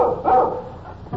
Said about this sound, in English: Little dog following us, keeping at a safe distance. He's making an awful lot of noise for a little fella.